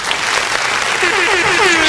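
A studio crowd claps and cheers in a dense, continuous wash of applause lasting a couple of seconds, with a high whistle sliding through near the end.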